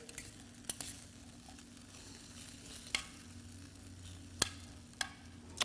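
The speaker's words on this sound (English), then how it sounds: "we're going to mix this up some more just to get them all covered and all that goodness" Butternut squash, carrots and turnips being tossed in a glaze, with soft stirring and a low background hiss punctuated by a few sharp clinks of utensil against the dish, fairly quiet and close.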